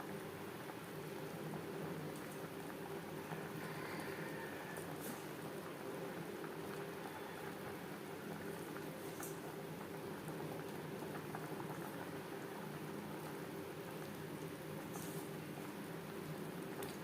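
Gravy bubbling at a steady boil in a pot with fried bata fish and green banana, a continuous close, even simmering rumble with no talk.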